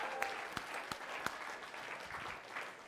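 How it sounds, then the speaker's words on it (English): An audience at a Faraday holiday children's lecture applauds for a performer named Mark, a steady wash of clapping with a few sharper individual claps standing out, fairly quiet and even throughout. "Come on, big round of applause for Mark."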